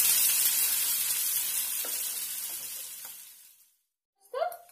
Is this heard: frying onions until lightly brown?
yes